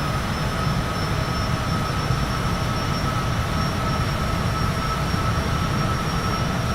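A steady, dense engine drone from an airplane cruising in Microsoft Flight Simulator 2024 fills the cabin, a constant even hum and roar with no voices over it.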